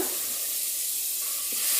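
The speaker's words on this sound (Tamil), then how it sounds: "நல்லா வதக்கிக்குங்க." Vegetables and cut potatoes sauté in a pot for vegetable biryani, giving a close, continuous sizzle with faint stirring scrapes and no talk.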